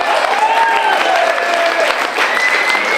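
A live audience at the Limerick Summer Festival of Literature applauds the limerick competition finalists: steady, loud clapping from a packed crowd, sustained and close throughout, with a few cheers or whistles rising above it.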